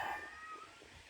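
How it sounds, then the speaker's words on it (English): A single hungry cat meow, fairly close, rising then trailing off in a drawn-out cry. "Ignore that, that's a cat, he's hungry."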